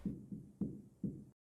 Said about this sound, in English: that knock was in my ear. I felt like somebody actually knocked on my door.